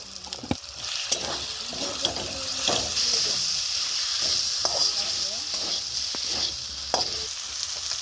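Spices fry in a hot pan for goat meat and chickpea masala, a steady crackling sizzle with repeated spoon clinks and scrapes against the metal, close and clear with no voices.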